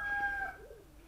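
A cross-bred pigeon of old German owl, Oriental Frill, Kazan and Uzbek breeding gives a short, soft coo, low and faint, following a brief high whistle-like tone at the start.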